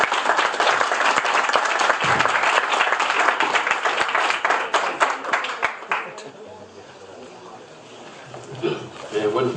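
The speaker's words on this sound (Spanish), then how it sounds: "Un aplauso, por favor." An audience at a lecture on Cuenca Cathedral claps loudly and steadily for about six seconds, then the applause thins out and fades into room murmur and faint talk.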